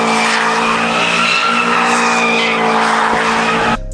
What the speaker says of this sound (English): doing donuts